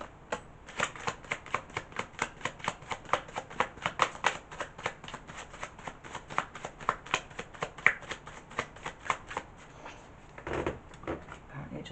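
Tarot cards are shuffled in a long, steady run of close, crisp riffling flutters, each one snapping quickly, followed near the end by a softer slide as cards are pulled from the deck.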